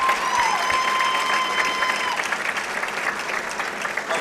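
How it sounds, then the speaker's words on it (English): A crowd applauds at a high school football game on the field, a sustained wash of clapping and cheering from a stadium audience, with a faint whistle-like tone in the mix. "Applause for tonight's recipients before I introduce them."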